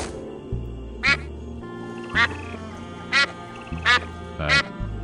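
Rubber duck in the Escape from Monkey Island game giving five separate bright quacks spaced about a second apart over a low musical background.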